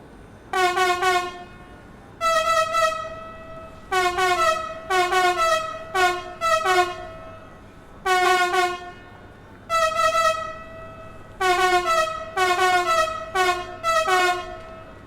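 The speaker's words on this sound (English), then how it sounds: "Vectron, on which I just used the horn to try and recreate the bass line from Easy For You To Say by Tony Basil" Locomotive horn of a Vectron electric locomotive in Train Sim World 6, sounded in a rhythmic series of short and longer two-tone blasts with brief gaps between them, loud and close, with no talk.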